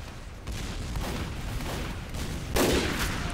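Gunfire rattles in the video game Team Fortress 2, rapid bursts of shots over a steady battle din, with a heavier blast near the end.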